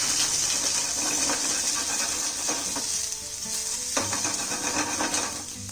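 Onion petals and large-diced capsicum sauteing over high flame for a desi Chinese egg lollipop dish, with a continuous loud sizzle broken by a few clatters of stirring against the pan, and no talk.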